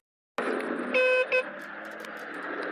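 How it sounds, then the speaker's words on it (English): The horn of a Volcon Brat fat-tire cafe racer electric bike honks at a truck on the road: two short, bright, tonal beeps close together, over a steady background of road and motor noise. "Alright, I got to use my horn."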